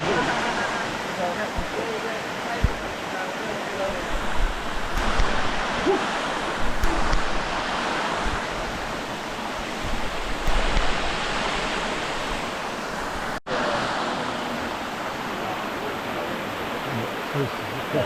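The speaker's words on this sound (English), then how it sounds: "This is the Cascade Falls." Steady broadband rush of Cascade Falls near Adelaide River, a waterfall running low with little water coming down, continuous and fairly close with wind-like hiss throughout.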